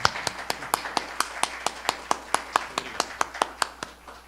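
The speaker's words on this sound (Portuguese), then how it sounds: "eu só queria pedir agora palmas antecipadas, como eu sempre faço para o nosso conferencista" A lecture audience applauds a speaker in steady, evenly spaced claps that sound like only a few hands, about four per second. The claps are sharp and close and continue for several seconds with no talking over them.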